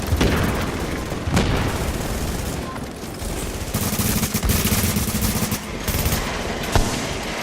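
Sustained automatic gunfire and booming shots from a striker-build firefight in the video game The Division, dense, loud and continuous with heavy low-end impacts throughout.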